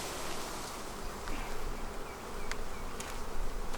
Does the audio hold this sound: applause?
no